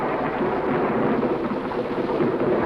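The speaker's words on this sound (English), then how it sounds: "But the rains came" Heavy rain pours with a rumble of thunder in a steady, dense wash of sound that stays loud throughout, with no voices.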